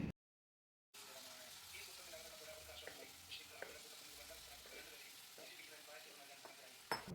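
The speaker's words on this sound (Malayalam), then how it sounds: "ഇനിയൊരു പാനിൽ വെളിച്ചെണ്ണ ഒഴിച്ച് വറുത്തെടുക്കാം" Shark pieces frying in coconut oil in a pan make a steady, soft sizzle with scattered crackles and pops. It starts after a brief silence and continues evenly to the end.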